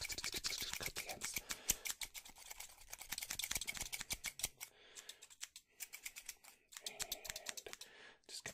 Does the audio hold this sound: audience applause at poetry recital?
no